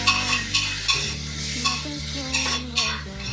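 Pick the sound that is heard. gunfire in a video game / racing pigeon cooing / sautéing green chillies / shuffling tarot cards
sautéing green chillies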